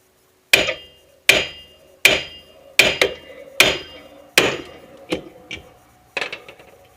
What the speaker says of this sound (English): And beat on that lower nut.